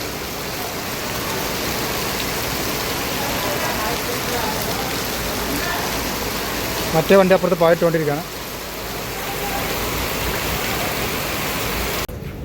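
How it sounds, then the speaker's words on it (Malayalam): Heavy rain pours on a loaded truck in a constant dense roar throughout; a person speaks briefly partway through before the downpour continues alone. "അപ്പോൾ ലോഡിങ് കഴിഞ്ഞത് പായിട്ട് കൊണ്ട് തന്നെ അതിശക്തമായ മഴ."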